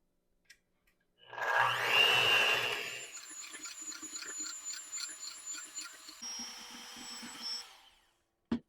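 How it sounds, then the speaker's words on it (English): A kitchen blender whirs as it mixes eggs and pumpkin for a dairy-free custard, starting with a loud rising whine, then settling into a steadier buzzing hum for several seconds before cutting off. "I'm going to go ahead and blend just the eggs and the pumpkin together first."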